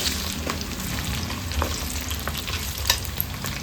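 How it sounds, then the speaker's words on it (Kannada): Ginger and garlic fry in oil for a Coorg-style chicken pickle, giving a steady close sizzle with occasional stirring clicks and scrapes from the pan. "ಎಣ್ಣೆಯಲ್ಲಿ ಬೆಳ್ಳುಳ್ಳಿ ಮತ್ತು ಶುಂಠಿ ಚೆನ್ನಾಗಿ ಬಾಡಬೇಕು"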